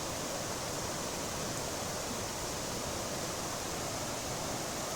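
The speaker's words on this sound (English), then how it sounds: "the sound of that waterfall would eventually annoy us" Waterfall near a quarry, a steady broadband rush of falling water that stays constant and fairly loud throughout, with no other sounds or talk.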